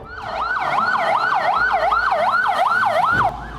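An ambulance siren wails loudly and close in a fast, regular up-and-down rhythm over road noise, cycling about eight times before cutting off near the end.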